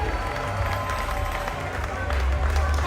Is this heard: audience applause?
yes